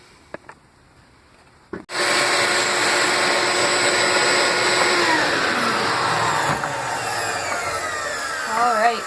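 Pocket holes being drilled into walnut molding, a loud steady whirring drill drone that starts abruptly after a couple of seconds of near quiet and runs continuously to the end, with faint bird-like chirps near the close.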